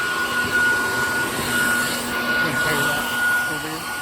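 A vacuum cleaner runs with a steady droning whine as it sucks up bees from a shed, loud and continuous with a slight rise and fall in strength throughout.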